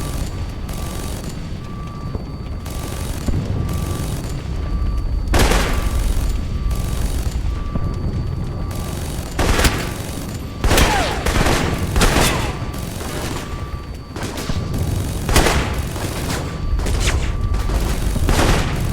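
Gunfire in Alpha Protocol, with loud repeated bursts and single shots cracking in clusters across the whole stretch over a rumbling background, and no talk.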